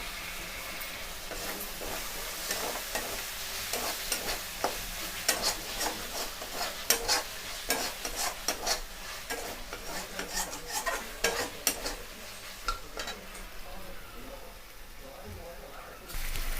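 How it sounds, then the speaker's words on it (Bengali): Spice masala with chopped tomato fried in oil, a constant low sizzle broken by repeated clattering strokes of a spoon against the pan, busiest midway and easing off toward the end. "এই মশলার মধ্যে দিয়ে দেব। দিয়ে আমরা ভালো করে কষিয়ে নেব।"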